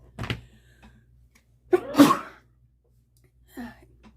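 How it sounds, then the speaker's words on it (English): One loud, close sneeze with a sharp burst of air, preceded by a quick intake and followed by a softer breath or murmur in a quiet room. "hang on, I'm going to sneeze."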